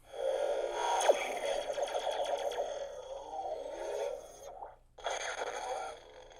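A Superneox Kylo-style lightsaber ignites with its photon ignition effect: a crackling, buzzing electronic hum that rises at the start, holds steadily for several seconds, cuts out briefly, then returns, close and moderately loud.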